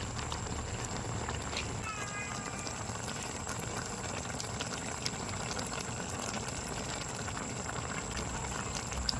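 Steady low bubbling of a cooking pot at a boil, a constant dense rumble with faint clicks, continuous for the whole stretch.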